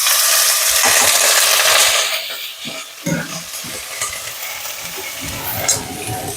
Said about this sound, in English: Hot, add in there some oil. Go ahead and add in your garlic.